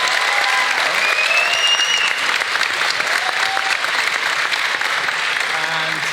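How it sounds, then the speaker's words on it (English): Audience applause at a Dota TI9 event, a dense and loud stretch of clapping from a large crowd holding steady throughout, with faint voices in the mix. "So give him please a round of applause."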